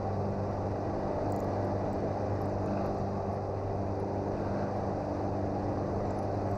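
Light aircraft engine at full power during a climb on a circuit training flight, a loud, steady propeller drone with constant low harmonics filling the cabin throughout, no talk.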